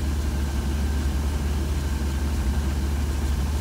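A 1966 Cadillac engine fitted with a Holley Sniper idle air control idles on its own in a steady, deep low rumble, heard up close.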